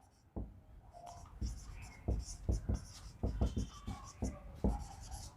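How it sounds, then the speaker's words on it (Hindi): Chalk or marker taps and scrapes on a classroom board, with irregular clusters of short strokes close by and some quiet background voice. "मैं इसे और ऊपर कर लिख देता हूं"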